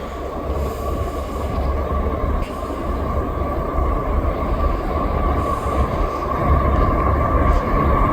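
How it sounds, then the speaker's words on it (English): An eastbound freight train rumbles past on the line, a steady close roar of wheels and cars with a faint higher hum, growing slightly louder toward the end. "We got another eastbound train coming down the line"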